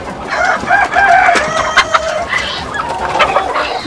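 Local chickens at a poultry farm in Baglung, Nepal, cluck and call in a busy overlapping flock, with a rooster crowing among them; steady close chatter with no speech.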